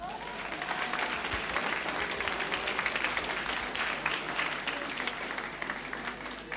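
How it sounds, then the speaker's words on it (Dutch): A carnival session audience in Horst, 1983, claps in a dense, steady wave of applause that carries on evenly throughout, with faint voices murmuring underneath. "Maar geef hem eens een applaus"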